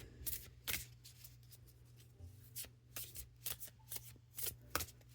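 Tarot cards being shuffled by hand at close range, a run of soft papery riffles and slaps in uneven bursts over a low background hum, with no talking.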